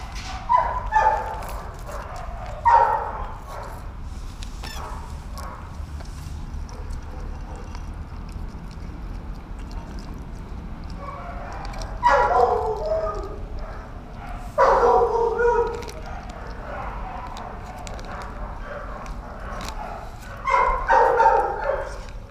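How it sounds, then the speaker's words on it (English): Two young kennel dogs at an animal shelter bark, yip and whimper in short bursts spaced across the stretch, fairly close, with a person's voice talking at times between them. "Good doggies."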